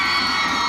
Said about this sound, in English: Last round ng ating cheer.